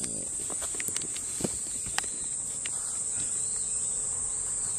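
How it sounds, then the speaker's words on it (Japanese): Summer cicadas drone in a steady, high, shrill whine that runs throughout, with a few scattered clicks and knocks underneath. "今日はですね、セミが鳴いてるんですね。"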